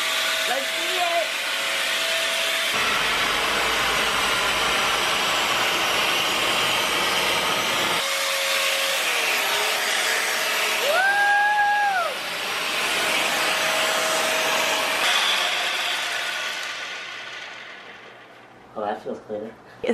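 A small, powerful vacuum cleaner fitted with a little attachment cleans a headboard, its loud, steady motor drone shifting in pitch as it moves, with brief talk over it before it winds down near the end.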